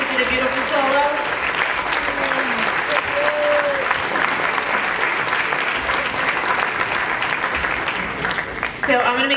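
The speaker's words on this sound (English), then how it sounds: "We have another round of applause for Mr. Freeman, a big string ensemble" Audience applause at a school concert after a string ensemble performance, loud sustained clapping from a large crowd filling the hall, with a few voices heard over it.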